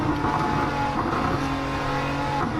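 A Nissan Z Performance sports car roars steadily around a race track, its loud, continuous engine note rising and falling with revs, with a hint of tire squeal and no talk over it.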